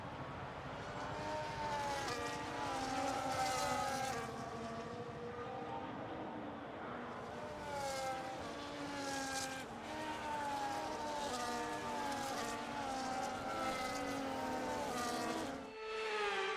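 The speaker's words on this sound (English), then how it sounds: "The formation lap is underway ahead of today's sprint." F1 cars on the formation lap in F1 25 at COTA, engines whining and shifting through gears as several cars pass close, a steady, layered roar throughout.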